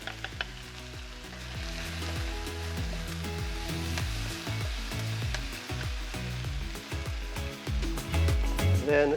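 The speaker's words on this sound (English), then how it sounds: "so the chicken is browning nicely and the onions are starting to take on a bit of colour" Chicken pieces and onions fry in a hot pan, a loud continuous close sizzle with repeated scraping and stirring knocks throughout, steady and busy with no pauses.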